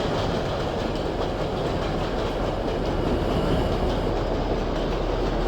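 An MTA R160A subway train runs express in the OpenBVE train simulator game, a continuous rolling rumble with faint clickety-clack of wheels over rail joints, steady and uninterrupted.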